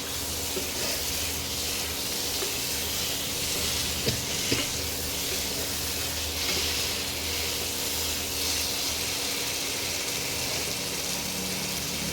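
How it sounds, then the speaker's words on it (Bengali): Potatoes and meat sautéing in a pan, a steady broadband sizzle and hiss with faint stirring scrapes, close and continuous with no talking. "আলু আর মাংসটা একটু কষিয়ে নিয়ে তারপরে জল দেবো"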